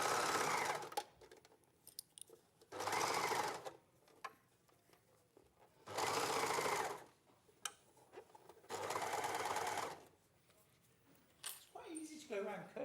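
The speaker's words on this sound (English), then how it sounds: "Go around curves on an overlocker" An overlocker stitches jersey fabric around curves in four separate whirring runs, each a couple of seconds long, with quiet pauses between them and faint talk in the background.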